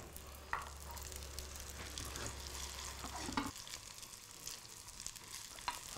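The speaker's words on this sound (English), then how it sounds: "So let's cook some lovely Thai-style Horlicks infused fish cakes." Thai-style Horlicks-infused fish cakes fry in vegetable oil in a pan, giving a soft steady sizzle with occasional clicks and scrapes, close and fairly quiet, with no talking.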